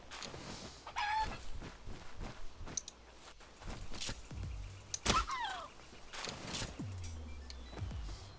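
Chickens in the Palworld video game, clucking in short scattered bursts among game thuds and mechanical sounds, moderately close, with no talk.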